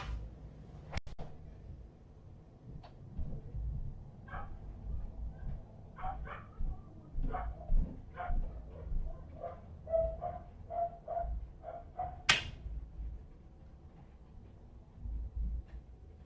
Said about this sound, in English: I just remembered I left my dogs on the porch.